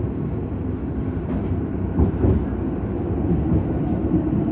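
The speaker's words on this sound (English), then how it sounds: "Look how a tram goes onto the road." A tram rumbles along a street in South London, low mechanical droning with faint rattles and a couple of brief louder clanks, heard up close.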